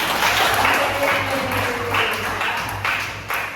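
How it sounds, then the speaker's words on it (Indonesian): A high school physics class applauds at the end of a lesson, a steady dense patter of many hands clapping close by and filling the room. "Beri tepuk tangan dulu untuk kita."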